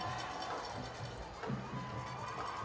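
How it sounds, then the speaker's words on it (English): Crowd noise from a high school football game between Valley View and Oakwood, a steady roar of many voices and cheers filling the air throughout, with a brief swell partway through. "you'll hear the crowd."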